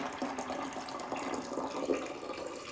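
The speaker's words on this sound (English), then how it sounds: "I'm gonna add the hot water first." Hot water poured into a container while making cherry wine, a steady close splashing pour with a faint trickle running throughout, and no talk over it.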